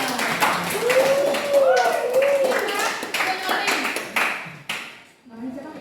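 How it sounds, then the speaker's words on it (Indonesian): A small group claps briefly in a classroom-style session, a burst of hand claps with a whistled or sung tone over it, fading out toward the end. "kasih aplaus"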